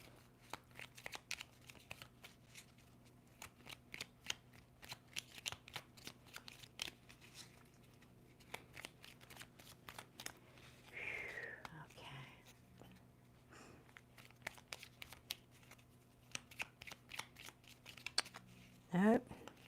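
A deck of tarot cards is shuffled in a reading, producing steady, soft, rapid riffling and flicking clicks throughout, quiet and close under a low background hum, with a few faint rustles.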